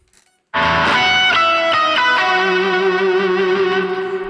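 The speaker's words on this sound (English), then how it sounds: "added distortion to get that and reverb" Distorted electric guitar plays a short run of notes, then rings out on a sustained chord, drenched in reverb and echo.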